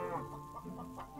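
Chicken clucking in a realistic Minecraft-style game, a series of soft, close, repeated clucks and short squawks in an irregular rhythm.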